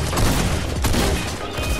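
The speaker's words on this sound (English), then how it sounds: "Other teammates shooting RPGs at us." RPG rockets fired by opposing players explode during a Fortnite match, a brief, dense wash of booming, roaring blast noise that stays loud and continuous throughout, with no voices.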